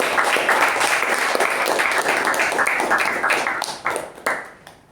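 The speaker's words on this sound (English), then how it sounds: "So let's give a huge round of applause for Toastmaster Sai Snehal." A crowd at a Toastmasters meeting applauds steadily with dense overlapping claps, which thin out and fade in the final second.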